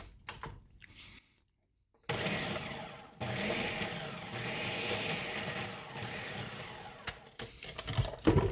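A food processor pulses purple and regular onions in a few loud whirring bursts separated by brief pauses, with an overlapping longer spin in the middle.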